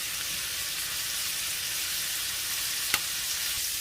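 Potatoes sizzle steadily in a hot pan with salt, pepper and paprika, a constant close fry with one small sharp tick near the end and no voices.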